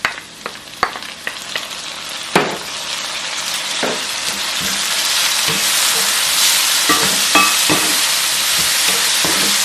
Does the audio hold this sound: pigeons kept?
no